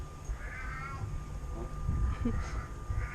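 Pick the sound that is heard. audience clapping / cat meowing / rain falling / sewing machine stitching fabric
cat meowing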